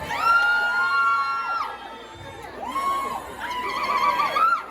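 A live concert crowd in Dallas cheers and shrieks in high, bursting waves of voices that rise, dip briefly and swell again, filling the room without any single voice standing out.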